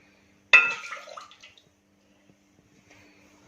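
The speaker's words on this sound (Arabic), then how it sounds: "اول حاجه هنحط الحليب" Milk poured into a chocolate cake mix of sugar, oil and cocoa gives a short splashing pour of about a second, close and fairly loud, then near silence with a faint clink at the end.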